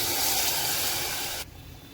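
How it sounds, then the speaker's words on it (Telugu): A loud hissing sputter as tamarind juice hits a hot pan of sambar tempering, a dense steamy spray that cuts off abruptly near the end. "ఈ పోపులోకి చింతపండు రసం వేసుకోండి."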